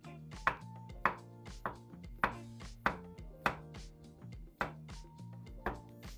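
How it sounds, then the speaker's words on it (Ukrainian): Regular knife chops slicing button mushrooms on a cutting board, about two per second, each a sharp tap, heard over soft background music. "Порізали наші шампіньйони"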